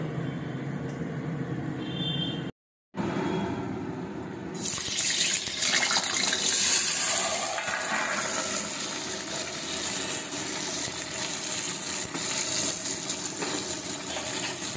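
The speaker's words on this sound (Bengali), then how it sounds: "তেল গরম হয়ে গেছে, আলুগুলো দিয়ে দেব।" Potatoes dropped into hot oil start frying with a loud, dense hiss that swells after a brief dropout and then holds steady and close. No talking.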